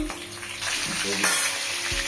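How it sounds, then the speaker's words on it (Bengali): Potatoes frying in oil left over from frying onions, for Kolkata-style chicken biryani, with a close, dense sizzle and stirring scrapes over about two seconds and no talk. "এবার পেঁয়াজ ভাজা তেলের মধ্যে দিয়ে দেবো আলুটা"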